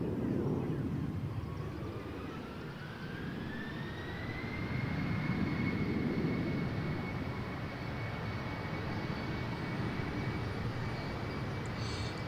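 A TUI Boeing 757 airliner departs Amsterdam Schiphol on a windy, cloudy day, its jet engines a steady distant roar under wind noise while a thin engine whine climbs in pitch and then holds.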